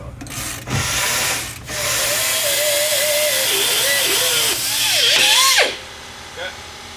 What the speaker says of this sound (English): Cutting out the U-bolts instead of taking them off.